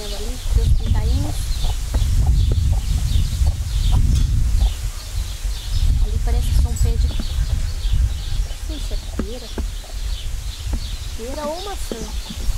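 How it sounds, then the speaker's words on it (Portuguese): Hens with their chicks on a small farm cluck and peep on and off beside a person talking, with a low rumble of breeze throughout. "Galinha correndo ali, seus pintainhos."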